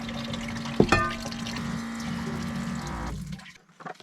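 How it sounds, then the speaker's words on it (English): Cold water runs steadily while a cooking pot is rinsed without dish soap inside a van, with a brief metallic clatter early on. The flow stops abruptly near the end. "So I'm just going to wash it with water."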